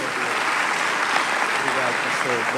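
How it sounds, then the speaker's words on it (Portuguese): A church congregation at a missions symposium applauds to welcome a preacher, a dense, steady wash of many hands clapping close by throughout, with voices faintly audible beneath it. "aplaudindo ao Senhor"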